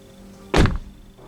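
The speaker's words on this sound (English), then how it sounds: "It looks very presentable, but it shakes every time I close the door." The door of a BMW iX3 electric SUV swinging shut with a single solid thunk, followed by a short rattling vibration as the panel shakes.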